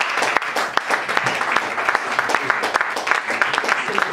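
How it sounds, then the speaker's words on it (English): A live audience at a talk event gives a round of applause, dense continuous clapping close and loud throughout with no pauses. "We got a round of applause,"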